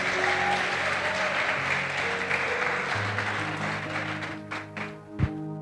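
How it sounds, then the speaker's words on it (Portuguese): Audience applause in a church service honoring brothers, a broad steady wash of clapping under organ-like sustained tones, fading near the end with a sharp knock. "Aplausos para os nossos queridos irmãos."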